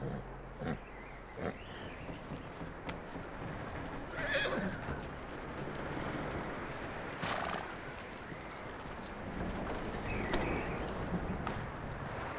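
A horse in Red Dead Redemption 2 whinnies and snorts over steady hoof clops, with a busy outdoor ambience underneath and no talking.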